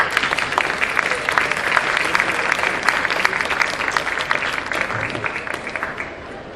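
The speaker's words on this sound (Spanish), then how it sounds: "No, un aplauso, Imanol." A crowd at a Spanish-language book presentation gives a loud, sustained round of applause, dense rapid clapping throughout, with faint voices underneath.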